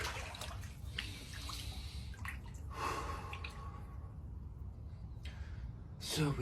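Water sloshes and drips as a person lowers into an outdoor cold plunge tub at about 52 degrees on a 53-degree early morning, with splashing bursts, trickles and a sharp breath near the end.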